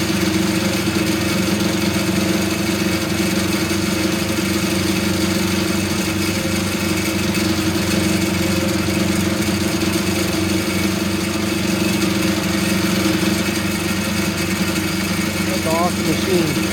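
A sawmill engine drones steadily while an elm log is milled, a constant loud mid-to-low mechanical hum with a faint rising whine near the end and a voice talking over it.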